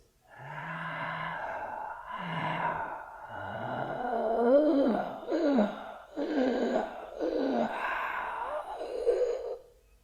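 Slow, hoarse ujjayi breathing through narrowed vocal cords, with a soft rasping, ocean-like hiss on each inhale and exhale, close and steady, with no talking.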